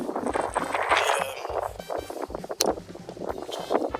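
Gusty wind buffets the microphone in uneven bursts in the Namib Desert, a close, rumbling roar that rises and dips for a few seconds.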